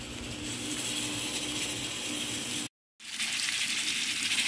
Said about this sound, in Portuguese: coração e o bacon que tá fritando